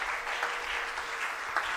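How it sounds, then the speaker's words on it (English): A church congregation claps their hands in praise during a worship service, a dense, steady wash of many hands applauding together throughout, with no talk over it. "Clap your hands and give God praise."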